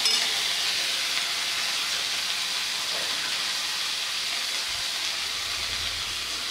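Tomato sizzling in hot oil with ginger-garlic paste while veg dalcha cooks, a steady broadband hiss and crackle that holds evenly throughout with no pauses.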